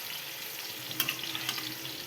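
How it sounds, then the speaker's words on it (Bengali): Sliced kakrol (spiny gourd) frying in a pan, a steady close sizzle with a couple of sharper crackles and pops, no voices. "তা দেখো আজকে কাঁকরোল ভাজা হচ্ছে"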